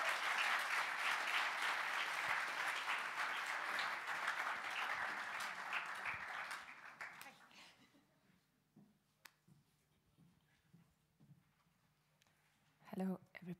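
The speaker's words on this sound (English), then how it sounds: "Make some noise, applause." Audience applause welcoming a performer onto the stage at a JA Europe Enterprise Challenge 2018 opening event, a loud sustained wash of clapping that fades after about seven seconds into quieter room noise and a brief sound near the end.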